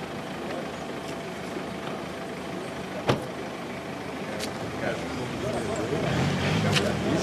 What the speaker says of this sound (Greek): Ναι, έφυγε το αυτοκίνητο ο άλλος.